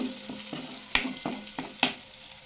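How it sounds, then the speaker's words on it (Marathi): Ginger, garlic and coriander paste fries in oil in a pan, a soft continuous sizzle broken by sharper spatula taps and scrapes, close and fairly quiet, without speech. "आता याला चांगलं परतून घ्यायचं कच्चा वास जाईपर्यंत"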